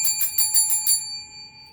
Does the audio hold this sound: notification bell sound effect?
yes